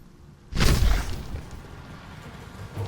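A single deep boom erupts in the fantasy role-playing game Baldur's Gate 3 in a sewer area, hitting hard and then settling into a long rumbling wash of lingering noise.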